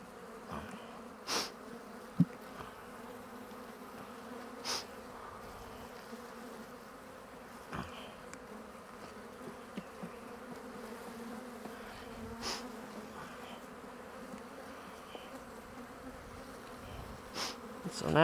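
Honey bees buzz around an opened hive while the brood nest is rearranged, a continuous low drone with individual bees passing close now and then, moderately quiet and with no talking.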